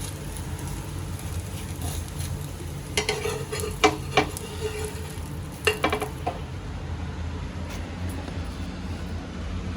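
An egg paratha roasts in a pan over a medium gas flame, giving a constant soft sizzle. A few light clinks and taps of a utensil against the pan land in the middle.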